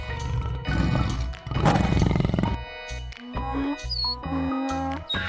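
A tiger roars loudly and close, with several rough bursts followed by shorter growling calls, heard alone without voices.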